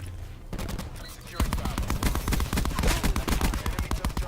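Titan light machine gun fire in Black Ops 4 Chaos Domination, loud, dense rapid bursts that start after a brief quieter lead-in and continue steadily with sharp repeated shots throughout.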